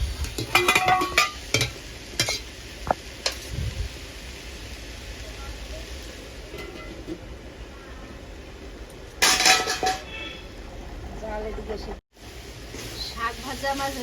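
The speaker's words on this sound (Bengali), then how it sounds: "এবার শাকটা ভালো করে ভেজে নিয়েছি" Jute leaf greens fry in a pan while a spatula clinks and scrapes against the metal in scattered bursts, with a soft background hiss between the knocks.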